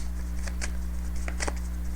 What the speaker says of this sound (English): A lot of shuffling in this reading.